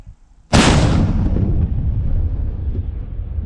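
A single loud artillery blast booms suddenly, then rolls into a long, rumbling echo that slowly fades.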